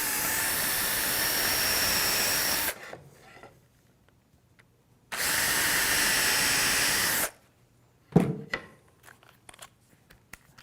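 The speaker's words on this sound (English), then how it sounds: "and pre-drill those holes a little bit." Two long bursts of high-pitched power drill whine pre-drilling holes in plywood, each a couple of seconds, separated by quiet, followed by a few short clunks and scrapes.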